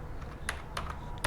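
A few quick taps on a computer keyboard, close and clear, a short burst of keystrokes over faint steady background hum.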